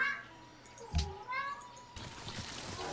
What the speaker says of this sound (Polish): że ty zawsze teraz miauczysz, kiedy próbuję nagrywać?